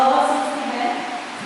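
A church congregation blowing together to imitate the wind, a steady breathy whoosh that holds for the whole moment and slowly fades, loud and close.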